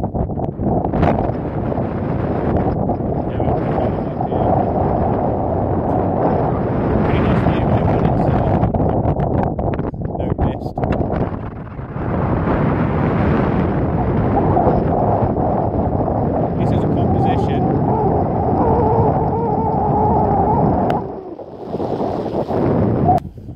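Steady gusty wind buffeting a microphone on Dartmoor near Brent Tor, a broad rumbling roar that persists throughout with brief dips, with some speech mixed in underneath.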